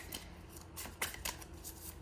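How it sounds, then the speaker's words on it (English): Tarot cards being shuffled by hand, a series of soft papery riffles and slaps in irregular bursts, close and moderately loud with no talking. "let me just continue on shuffling until we get our card"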